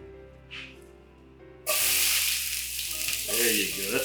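Olive oil sizzling loudly in a frying pan as food hits it in a home kitchen, a sudden burst of steady crackling hiss after a quiet moment, close up and continuing with a faint stirring scrape.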